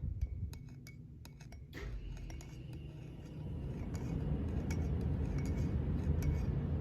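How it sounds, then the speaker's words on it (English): A bleach and colour mixture stirred in a container, a run of sharp clinking taps of utensil on glass early on, then fading into a steady low rumbling background with a few faint scattered clinks. "And let's stir it a little bit."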